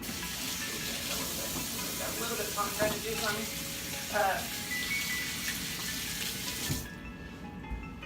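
Water runs steadily from a kitchen faucet while hands are washed during sorbet preparation, a constant close splashing hiss that stops abruptly near the end, with a person talking over it.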